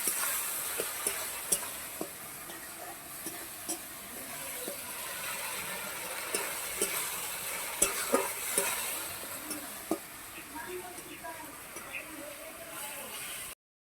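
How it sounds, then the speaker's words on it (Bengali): Spice paste of onion, garlic and ginger being sautéed in a pan for a jackfruit curry, giving a steady low sizzle with scattered scraping clicks of a spatula throughout, moderately loud and continuous. "আদা বাটাটাও দিয়ে দিচ্ছি ভালো করে মশলাটা কষে নেবো"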